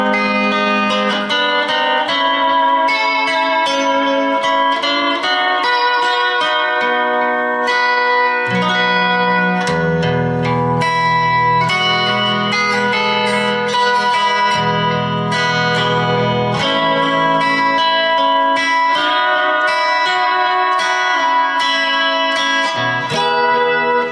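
A lap steel guitar plays a lick that slides up to an A starting from G, with loud, sustained, gliding notes and chords ringing out over a low bass tone, played alone without talk.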